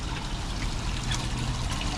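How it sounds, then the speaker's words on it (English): Gray tank wash water from an RV gushes steadily through a dump tube in a continuous, close, rushing flow without pause. "Second up is gray tank. It's your wash water. That kind of flushes out the tube."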